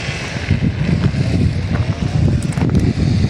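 Steady outdoor wind buffeting the microphone at the Acropolis of Athens, Greece, a dense low rumble throughout with gusty fluctuations and no clear talk.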